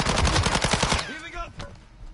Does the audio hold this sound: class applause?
no